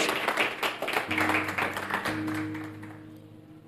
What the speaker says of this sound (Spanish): dale un aplauso a eso